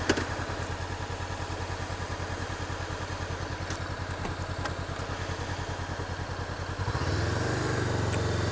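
A Honda CBR500R motorcycle engine riding through the North Georgia mountains, a steady close mid-pitched drone with rhythmic pulsing that rises to a louder, deeper roar near the end.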